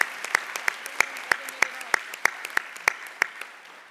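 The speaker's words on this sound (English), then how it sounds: "give them a round of applause" Sparse applause at a University of Michigan event: a few pairs of hands clapping in a steady, evenly spaced rhythm, about a dozen distinct claps that thin out and stop near the end.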